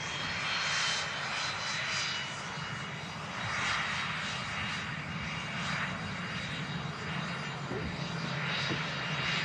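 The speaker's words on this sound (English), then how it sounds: "BizJet coming out. Looks pretty nice, this. Lovely. Sounds nice as well." A business jet taxis out at Manchester Airport, its engines giving a continuous, moderately loud roar with a slight swell and fade as it moves.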